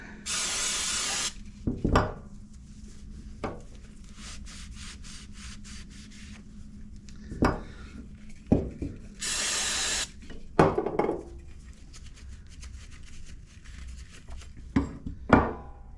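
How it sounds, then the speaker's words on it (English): Disc brake cleaner sprayed to degrease a mountain bike chainset: short bursts of aerosol hiss between rubbing, wiping and light knocks of the parts being handled, close and quiet, with no talk. "I'll use a disc brake cleaner just to degrease"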